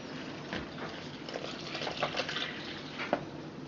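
Liquid pours steadily into a bowl of tamale dough mixed with salt and baking powder, a soft continuous splashing gush heard close up with no talk.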